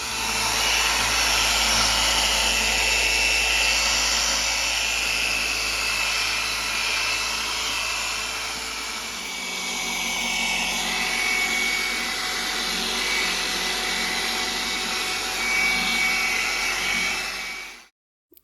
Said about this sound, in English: so I'm going to use the buffer